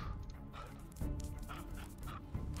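Dog attacking in the Crown Wars video game, with loud yelps and snarling barks in close bursts over a busy layer of game noise.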